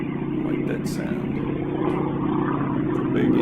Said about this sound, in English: It's a big engine.